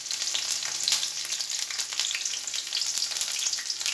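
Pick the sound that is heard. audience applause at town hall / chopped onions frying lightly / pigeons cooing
chopped onions frying lightly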